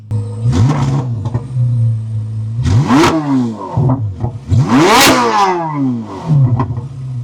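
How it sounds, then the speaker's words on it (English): A 2026 C8 Corvette Z06 engine idles, then is revved hard in several sharp bursts, each rising to a loud roar before dropping back to a burbling idle. "It's the craziest sounding Corvette ever."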